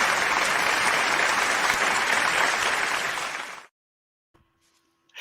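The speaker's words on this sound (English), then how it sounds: "The clap was for you, Wilfred." Fans at a football supporters' forum clap together in a loud, sustained burst that cuts off abruptly, followed by near silence and a faint tone.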